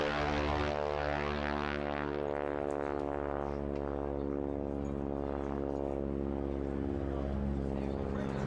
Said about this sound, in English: So just getting airborne now is the Harvard from Navy Wings.